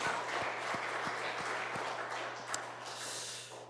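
A church congregation applauding during a Sunday morning service, a soft, distant wash of clapping with a low steady hum and a faint periodic knock beneath it.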